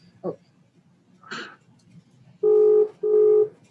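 A telephone being dialed gives two long, loud, steady electronic tones in succession near the end, after a couple of brief soft sounds in a quiet room.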